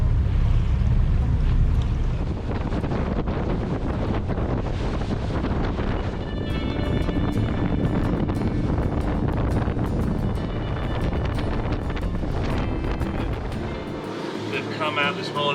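A boat pulls out of Mallaig harbour at full throttle, its loud, continuous engine roar mixed with heavy wind buffeting the microphone, steady for the whole stretch before easing slightly at the end.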